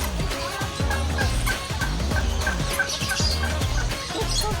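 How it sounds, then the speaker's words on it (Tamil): Guinea fowl at a bird park give a chorus of rapid, repeated clucking calls, several birds overlapping in loud, choppy bursts with no pause between them. "இது வந்து கின்னி கோழி."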